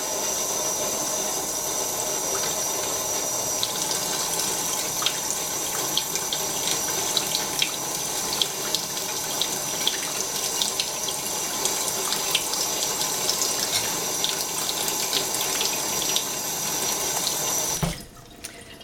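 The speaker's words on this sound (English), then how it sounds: "hold it under the tap, and then fill it up with water" Water runs steadily from a tap into a blown-out eggshell in a constant splashing stream for a long stretch, then cuts off abruptly near the end.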